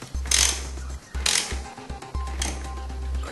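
Spanner work on a motorcycle's rear-wheel chain adjuster: close metallic ratcheting and clicking in short bursts separated by brief pauses, with no talking.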